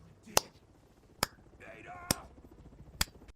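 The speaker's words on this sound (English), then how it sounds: "Those claps sound like they're coming from a little girl, far from hitting puberty" Clapping in Resident Evil 6 comes as four thin, crisp claps spaced about a second apart, quiet and evenly paced over low background game sound.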